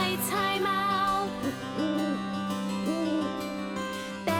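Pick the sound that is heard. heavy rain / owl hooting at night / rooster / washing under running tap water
owl hooting at night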